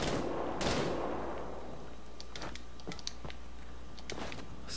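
Gunfire in the video game Wolfenstein: The Old Blood, a loud opening burst followed by scattered lighter shots and clicks over a constant game-sound bed.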